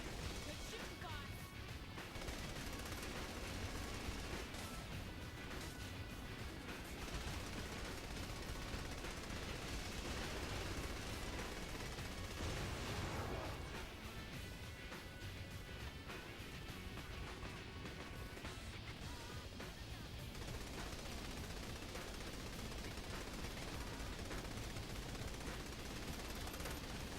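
Video game gunfire, sustained and dense, with bursts and crashes layered under continuous game noise and people talking over it throughout.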